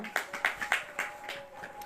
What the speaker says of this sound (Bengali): সবাই রক্তিমের জন্য জোরে হাততালি দাও